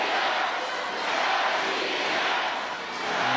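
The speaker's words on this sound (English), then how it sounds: "the partisan crowd here find their voices as they try to get behind their team" A partisan crowd roars at a Russia versus USA basketball game, a dense, sustained arena din of cheering voices that swells and dips slightly across a few seconds.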